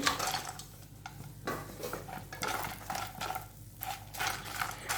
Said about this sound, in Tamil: வரமிளகாய் லைட்டாக ஃப்ரை ஆன பிறகு இதில் 10 உடைச்ச முந்திரி சேர்த்துக்கிறேன்.